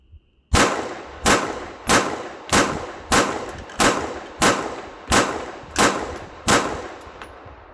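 A Sig P365 Spectre Comp pistol fires 124 grain rounds at steel targets, ten loud evenly spaced shots each followed by a ringing metallic clang, with no talk.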